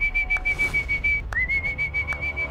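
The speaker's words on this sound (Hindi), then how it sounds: "और वो सीटी बजा रहा है।" Someone whistles a sustained high tone, breaks off briefly, then slides back up into a steady note, clear and close with no talking.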